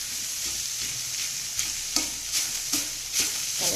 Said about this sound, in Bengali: এই যে খুব নাড়াচাড়া দিতে হবে শাকটা, এভাবে করে আবার সামনে নেব